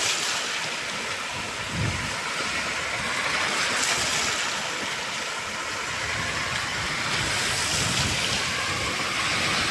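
Big sea waves crash and surge steadily in a strong northeast monsoon wind, a loud continuous roar of surf with wind noise and no talking.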